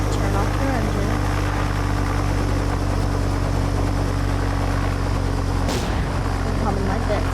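A helicopter in the Roblox game Oil Warfare Tycoon drones with a steady, loud engine hum and low rotor rumble throughout, briefly broken by a sharp crackle near the end, while a voice talks over it.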